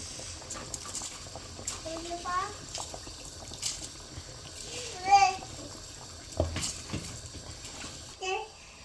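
Water boiling in a cooking pot for chicken biryani with Ponni rice: a steady bubbling, burbling wash at moderate volume, with intermittent speech and a voice over it.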